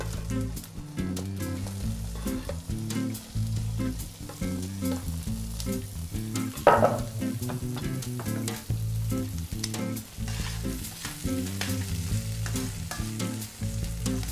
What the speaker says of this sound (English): my butter is now hot enough, so let me dump in the asparagus